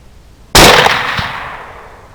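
A 6.5 Grendel rifle fires a single loud, sharp shot at a 245-pound boar 140 yards away, shooting Hornady SST 129 gr ammunition from an Alexander Arms rifle outdoors. The blast comes alone and rolls off in a long fading echo.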